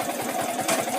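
Yamaha Vixion motorcycle engine idling in neutral, a steady close putter with rapid regular pulses and a brief louder bump near the end.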